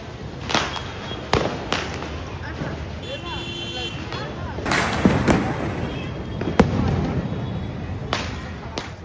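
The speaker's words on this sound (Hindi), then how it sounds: "जो दिवाली के पटाखे होते हैं वो जब जलते हैं ऊपर" Diwali firecrackers burst overhead in a run of sharp, loud bangs with crackling in between, spread irregularly through a noisy outdoor scene while people talk nearby.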